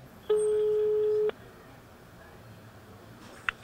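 A single steady telephone tone sounds on the line for about a second during a call being placed, followed by quiet line noise and a couple of faint clicks at the end.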